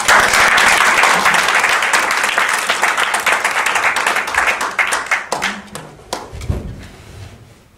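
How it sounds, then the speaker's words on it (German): An audience at a live coaching session gives dense, close applause that thins toward the end into scattered, separate claps. "Applaus!"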